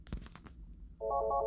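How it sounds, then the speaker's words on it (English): A phone at a workplace rings with a short electronic tone near the end, following a few soft thumps and handling noises, close and fairly quiet. "I had a phone call here at work."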